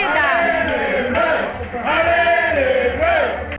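A large crowd of French football fans roars and chants loudly and continuously, rising and falling, after their team scores to go 4-1 up against Croatia.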